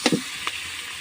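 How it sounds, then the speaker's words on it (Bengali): Onions frying with ginger garlic paste in a pan, a brief close crackle and two quick stirring scrapes at the start, then a softer sizzle under a faint clink. "একটু ভালোভাবে ভেজে নেব"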